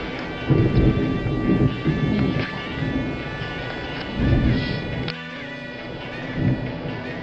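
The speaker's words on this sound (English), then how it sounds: "I love thunderstorms." Thunderstorm with rolling rumbles of thunder swelling and fading several times over steady rain, close and fairly loud, with no talking.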